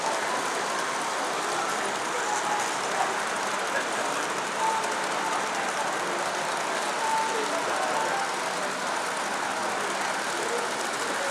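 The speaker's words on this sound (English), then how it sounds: "got quite a lengthy train happening, so disappearing down the back, and it's still coming around the front as well" A long model railway train runs around a layout at a model railway exhibition, a steady broadband rumble and rush of running wheels heard throughout under the general hall noise.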